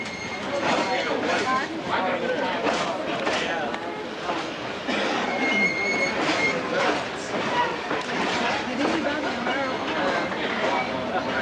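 A locomotive approaches on rails, giving a steady, loud rumble and rattle of wheels on track throughout, with people talking over it.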